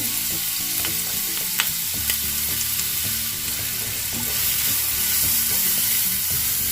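Onions sizzle and crackle steadily in hot oil for chicken chukka, with occasional stirring clinks and scrapes throughout.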